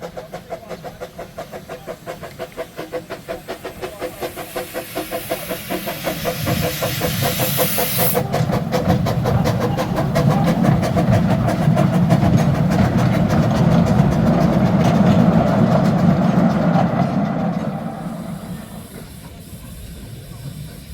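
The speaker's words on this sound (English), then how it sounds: "the first train is already departing" A steam locomotive pulls away on a garden railway with a rapid chuffing rhythm and hissing steam. The sound swells louder as it passes close by, then fades into a softer hiss.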